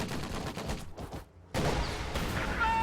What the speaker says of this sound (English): Just enough damage from small arms fire to bring it down